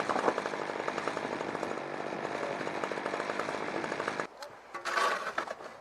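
An Alaskan chainsaw mill ripping through lodgepole pine, the saw droning steadily at high revs close by for about four seconds before easing off, followed by a shorter burst of cutting.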